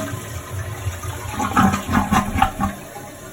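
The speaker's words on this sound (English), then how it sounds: "half flush" A toilet fitted with a thrift-store fill valve does a half flush, a close rushing gurgle of water that swells and then drains off.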